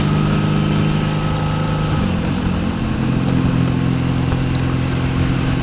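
A motorcycle rides through the town of Lauenburg an der Elbe, its engine droning loud and close the whole time, with the pitch dropping and shifting midway as the rider changes speed.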